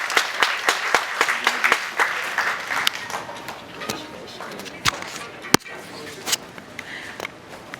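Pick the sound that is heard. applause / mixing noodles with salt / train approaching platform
applause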